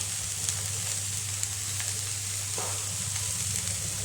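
Chopped red spinach stir-frying with jackfruit seeds in a hot pan gives a steady, close sizzle with faint stirring clicks and scrapes scattered through it.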